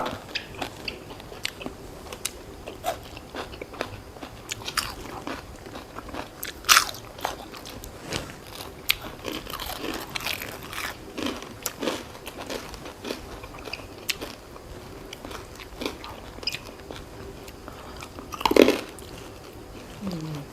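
Close, crisp crunching and biting of spicy Vietnamese-style pork sausage salad, with repeated quiet chewing crunches at an irregular pace throughout and no talk.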